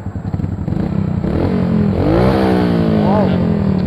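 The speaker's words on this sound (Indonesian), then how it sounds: "knalpot Scorpio" A Yamaha Scorpio motorcycle with an aftermarket exhaust idles with a deep, steady burble, then revs up loudly around the midpoint and again briefly near the end, close by.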